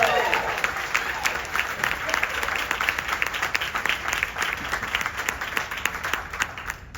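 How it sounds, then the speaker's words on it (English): An audience at a school event applauds steadily, a dense wash of clapping that holds loud and even throughout with no voices breaking through. "Another round of applause."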